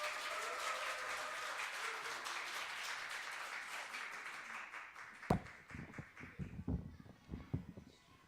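A church congregation at a Korean year-end small-group worship service applauds to welcome a deaconess to the front. Broad, fairly faint clapping lasts about five seconds, then gives way to scattered louder taps and rustling.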